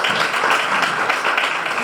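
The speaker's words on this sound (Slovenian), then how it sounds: "da lahko date gospe en aplavz" Brief, steady applause from the audience at a panel discussion on waste management, a moderate wash of many hands clapping together with no voices on top.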